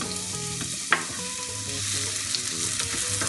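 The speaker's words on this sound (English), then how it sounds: "we heat up the oil in the pan and we add the onion, chopped onion" Chopped onion frying in hot oil in a pan, the start of vegan albóndigas: a steady, close sizzle throughout, with one sharp utensil clank near the one-second mark and soft stirring scrapes.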